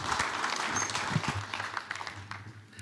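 At a drone industry conference and expo, the audience applauds the panel members, a soft spread of many hands clapping over a low steady hum, thinning toward the end.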